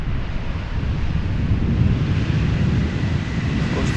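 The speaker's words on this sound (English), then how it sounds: "1352 returning from the Czech Republic from Prague. Embraer 175" Embraer 175 arriving at Amsterdam Schiphol from Prague in a gusty crosswind, a low rumbling engine roar mixed with buffeting wind noise on the microphone, steady and fairly loud, with no voices.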